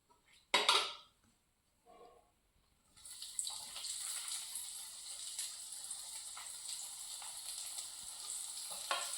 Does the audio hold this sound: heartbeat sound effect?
no